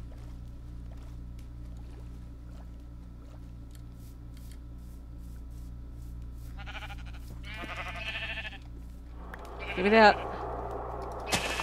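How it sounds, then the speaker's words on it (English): A sheep in the video game Crundee Craft bleats a couple of times in short wavering bursts over steady game background noise, followed by a louder in-game sound near the end, with someone talking briefly. "is that a sheep? That's a sheep."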